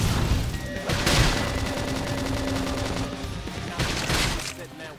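Combat in Xenoblade Chronicles X with a flame grenade attack: dense bursts of explosive, gunfire-like blasts and booms, loud and close, with game sound effects layered throughout.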